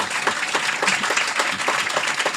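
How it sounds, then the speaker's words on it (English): A studio audience applauding loudly and steadily, dense continuous clapping throughout with no break. "Far be it for me to interrupt Glenn's applause. Keep applauding."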